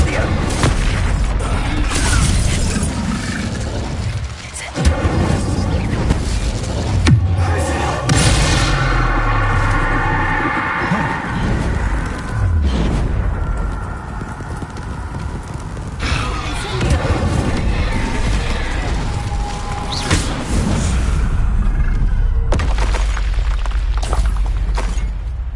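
Fire spell blasts in the Hogwarts Legacy video game boom repeatedly through dense combat noise, with a player shouting spell names over the loud, continuous chaos.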